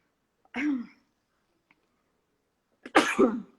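A person sneezes twice, with a short soft burst followed about two seconds later by a louder, fuller sneeze, close to the microphone in a quiet room.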